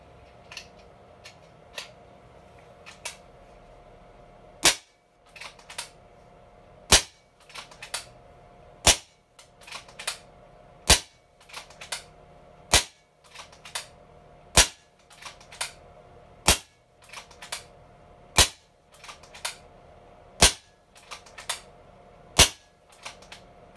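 A tuned Kral Puncher Breaker .25 air rifle fires about fifteen sharp, loud cracks at steady intervals of roughly one to two seconds, with quiet mechanical clicks of cycling between shots and no talking.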